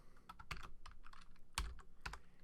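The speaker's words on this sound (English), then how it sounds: "type in happy and hit the green check mark" Fast typing on a computer keyboard: faint, close, crisp key clicks in uneven bursts with a few louder strikes, alone against a quiet room.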